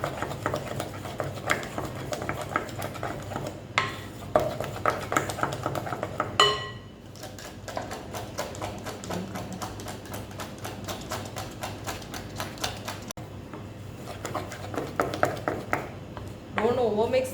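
Madeira cake batter being mixed with beaten egg: soft, irregular scraping and tapping of a utensil in a bowl, fairly quiet, with a person talking over it.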